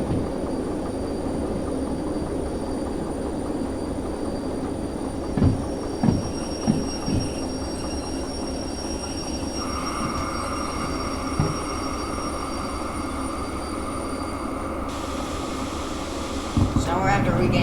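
A freight train in the railway game Derail Valley rolls along with a steady low rumble and mechanical hum, with a few faint clanks along the way. A voice talks over the running noise.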